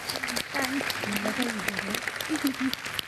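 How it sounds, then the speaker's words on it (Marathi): Studio audience on a Zee Marathi TV game show gives a loud, steady round of clapping for two contestants, with a voice talking over it throughout. "तर दोन्ही जणांसाठी खूप खूप जोरदार टाळ्या"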